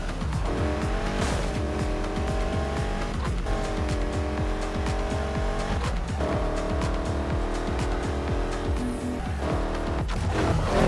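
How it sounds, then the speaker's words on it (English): A race car in a driving video game revs hard with a steady engine drone, and its tires squeal again and again in repeated drift slides, loud and close throughout. "This car's way too slow to drift, bro."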